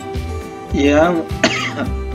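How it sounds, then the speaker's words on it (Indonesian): A teacher coughs twice during an Indonesian third-grade exam review lesson, two sharp, close throat-clearing bursts with brief speech around them. "maaf anak-anak ya, batuk dulu."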